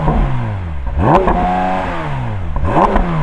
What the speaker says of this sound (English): Let's have a listen to a naturally aspirated flat six.